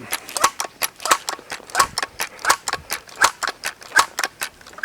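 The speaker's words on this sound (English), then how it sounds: "And I'll go ahead and cock it, and then we'll pump it up." Crosman 2100 Classic air rifle being cocked and then pumped, giving a steady series of about fifteen sharp mechanical clacks at a brisk, even rhythm, loud and close with no talking.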